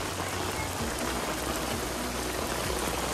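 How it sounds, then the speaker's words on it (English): Heavy rain pouring during a storm, a dense steady hiss of drops hitting surfaces and pavement, close and continuous with no voices. "So we're getting a ton of rain."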